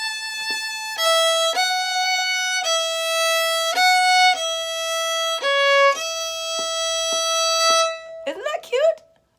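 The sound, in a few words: string instrument playing a line of Lil' Liza Jane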